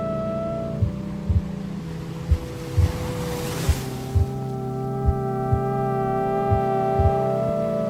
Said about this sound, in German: Kleine Wellen schellen gegen die Ziegelbrüstung